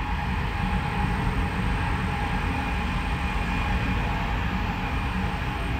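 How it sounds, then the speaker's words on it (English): A train rumbles past in a continuous, loud roar with a steady metallic rush that holds unchanged throughout. "there goes a train"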